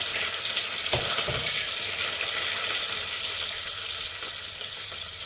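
Green chillies and curry leaves frying in hot oil with popped mustard seeds for a tempering, a loud, close, continuous sizzle and hiss with a few stirring scrapes.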